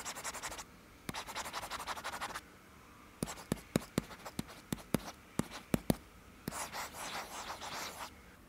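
Black stylus pen tip drawing on matte tablet glass: bursts of dry scratchy scribbling alternate with a run of sharp, evenly spaced taps, close and fairly quiet, with no talk.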